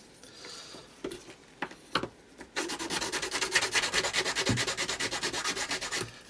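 Sandpaper rubbed back and forth across the back of a mixed media art journal cover, with a few separate scrapes first and then a steady run of quick, close strokes, loud and alone.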